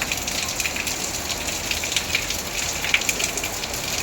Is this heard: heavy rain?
yes